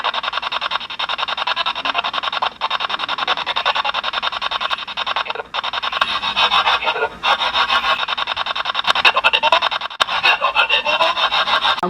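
Ghost-hunting spirit box radio sweeping through stations, giving a continuous harsh rasping static with choppy broken fragments, loud and close, running steadily with brief dropouts.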